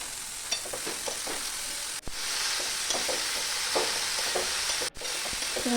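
Cabbage cooking in a pan with salt and turmeric while being stirred, a dense continuous sizzle overlaid by scattered scraping and light knocks of a spatula, with two brief dropouts.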